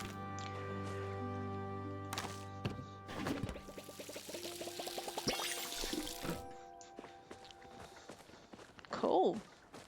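Plants being watered in the Palia video game: pouring, splashy liquid sounds with faint soft steps under a layer of background music, moderately quiet, with a louder burst near the end.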